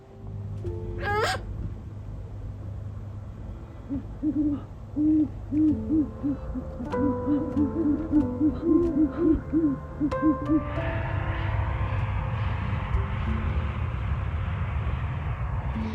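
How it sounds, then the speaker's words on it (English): A great horned owl hoots in a snowy off-grid setting near an A-frame cabin in winter. A series of deep, rhythmic hoots repeats at a moderate distance, followed by a rising whoosh of wind or passing noise. "There's the great horned owl that lives here."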